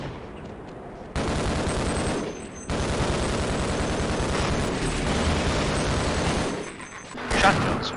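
Dense, sustained machine gun fire from the video game Half-Life roars in long, loud bursts with brief gaps, with a voice speaking over parts of it.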